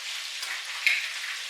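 A chicken sandwich fries in a pan, a soft, even high-pitched sizzle with a brief louder crackle partway through, heard alone and close.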